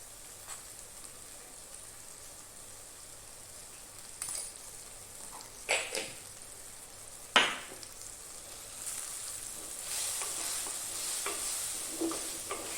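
Coriander powder fries in a pan for a fish roast, a soft steady sizzle broken by a few sharp spoon scrapes, and the hiss swells louder toward the end.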